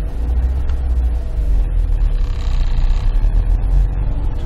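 A manual-transmission car pulling away as the clutch is slowly released while giving it gas, a loud close low engine rumble with a slight rise in revs, steady throughout.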